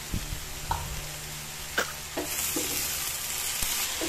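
Cabbage and beans sizzle steadily while being sautéed in a pan, with close scrapes and clacks of stirring cutting through the constant frying hiss.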